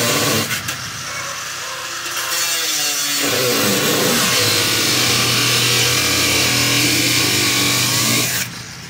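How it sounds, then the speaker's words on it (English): A power saw cuts steadily through the roof of a 1957 Chevrolet Bel Air four-door hardtop, a loud, close, grinding whine that holds for several seconds before stopping. "We're gonna get back at it and start cutting this roof off."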